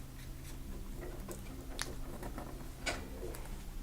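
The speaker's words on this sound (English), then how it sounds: "And fold this corner to the middle here." Origami paper being folded by hand, faint soft crinkles and a few sharper creasing rustles over a low background hum, close and quiet.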